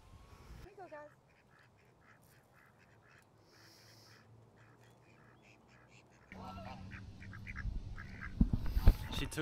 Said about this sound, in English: Look at those ducks lined up.